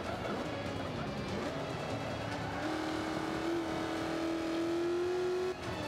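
A muscle car racing in the video game Forza Motorsport 5: a continuous engine drone shifts pitch through a corner, then settles into a held, rising tone that cuts off sharply near the end.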